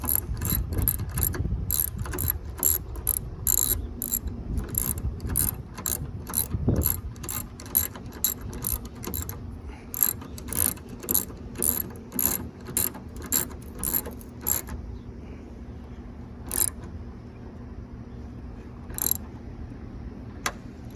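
Ratchet wrench torquing a bolt on a tailgate assist dampener kit on a 2020 Ford F-150, close sharp clicking in rapid bursts, then slower spaced clicks as the bolt tightens.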